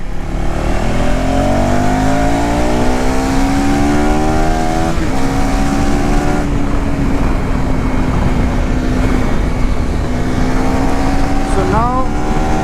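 A 2025 KTM Adventure 390 motorcycle is ridden on the road. Its engine hums loud and close, the pitch climbing and then dropping at a gear change, under constant wind rush, with a rider talking over it.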